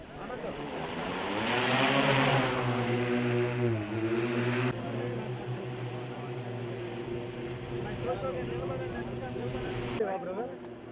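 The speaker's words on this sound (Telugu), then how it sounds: "కొంచెం డ్రోన్ కింద దించుకోవచ్చు" A drone's propellers whine overhead at an outdoor Viksit Bharat Sankalp Yatra event in Mamillapalli village, a loud steady buzz that swells and wavers around two seconds and keeps going under voices and crowd noise.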